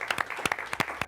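Show participants applaud one another at the close of a final episode: a small group's sparse, separate handclaps, crisp and fairly close, spread unevenly over about a second with no talk.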